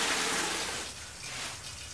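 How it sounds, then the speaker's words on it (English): Crushed red wine grapes are poured from a bucket into a small basket press, a wet gushing, splashing pour that starts fuller then eases to a softer, lighter trickle, heard up close without talk. "just gonna pour it into our little basket press that we have here."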